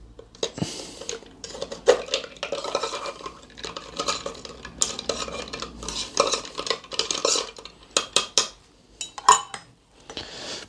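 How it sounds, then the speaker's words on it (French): A spoon stirs a cocktail in a glass with steady clinking and scraping, close and fairly loud, broken by a few sharper clinks of metal on glass. "Et là, vous venez donc mélanger ça."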